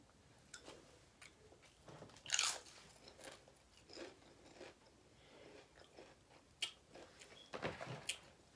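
Chips are crunched and chewed during a guess-the-chip taste challenge, one of them cheesy and hot. Sharp, intermittent crunches and bites come close by over a quiet background, with no talk.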